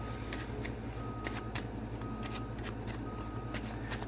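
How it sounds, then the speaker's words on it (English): Tarot cards being shuffled by hand, a steady run of crisp riffling flicks and soft slaps close up over a low constant hum, with no talking. "Meanwhile, I'll be shuffling the cards for you."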